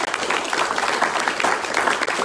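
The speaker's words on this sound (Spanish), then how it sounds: "Vamos a darle un aplauso al Señor si tú lo crees" Congregation applauding the Lord during a Spanish-language church service, a dense, steady wash of many hands clapping that fills the whole moment at full volume.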